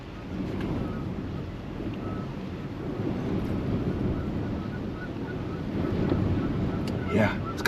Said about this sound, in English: Yeah, it's kind of wild how windy it is. Just shaking the truck.